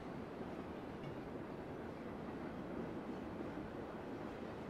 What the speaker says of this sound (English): this train's still going